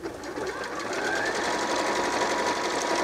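A Janome computerized sewing machine running steadily while sewing a darning stitch, a loud, even mechanical whir with a rapid rhythmic needle chatter, close and continuous with no voices.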